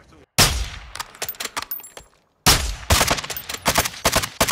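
Gunfire in a shooter video game, loud and close: bursts of rapid shots in two clusters separated by a brief pause, with some sharp single cracks.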